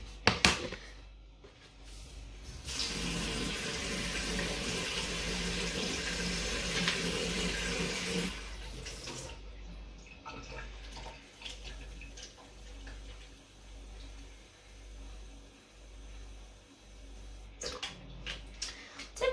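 Water runs from a tap into a bowl, a loud steady splashing stream for several seconds that then stops, leaving quieter handling clatter and light clicks.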